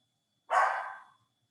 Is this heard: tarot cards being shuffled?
no